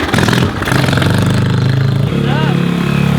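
A 140cc ATV engine fitted with a swapped-in 4-speed transmission runs loud and close, revving and holding a steady throttle with a mechanical clatter, while people talk over it.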